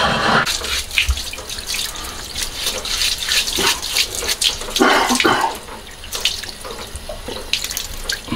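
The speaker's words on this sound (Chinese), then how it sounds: "咱们去把肉啊，还有鲍鱼一块清洗一下" Running tap water splashes steadily as pork belly and abalone are rinsed in a sink, with irregular splashes and shifts in the flow from handling the meat and shellfish, close and fairly loud, with no talking.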